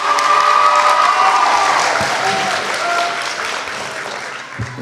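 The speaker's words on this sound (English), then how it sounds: "let's give ourselves a round of applause" A graduating high school class and crowd at a commencement ceremony break into loud sustained applause with cheering and whoops, steady throughout and easing slightly toward the end.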